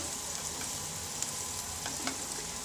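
Green chili pickle with spices sizzling in oil over a slow flame, a steady close frying hiss with faint scrapes of stirring and no voices.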